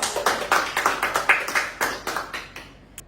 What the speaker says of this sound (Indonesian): Mari kita tepuk tangan untuk Kadri.